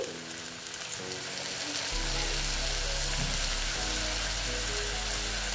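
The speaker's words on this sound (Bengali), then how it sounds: "দেখো একটু আমি জল দিয়ে দিচ্ছি।" Kochur loti (taro stolons) with ground white and black mustard frying in a pan bursts into a louder, steady hiss as water is poured in, the sizzle continuing close and unbroken.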